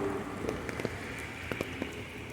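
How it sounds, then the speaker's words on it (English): Steady rain falls outdoors as a constant broadband hiss, with a few sharper drips and taps landing on a nearby surface; no voices. "And it's raining."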